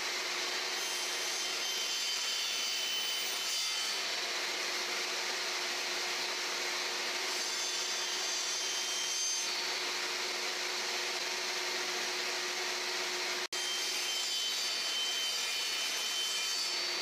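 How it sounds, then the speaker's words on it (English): Wooden tenon sides being cut with passes of a saw, a steady raspy buzzing hiss with slight changes in pitch and a brief break near the end, fairly close with no talk. "That way I can line up and just take passes and cut out the sides of the tenon."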